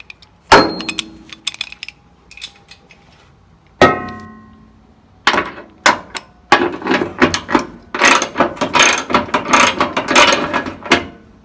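Bolts are worked loose from the steering wheel of a classic Volkswagen bus with a wrench, giving sharp metallic clicks, ratcheting and clanks that come in separate bursts and then a busy run of close, loud rattling.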